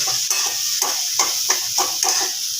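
A vegetable mixture with green chillies and fried peanuts sizzles in a pan on the stove, with a steady fry hiss and a series of sharp spatula scrapes and knocks about every half second.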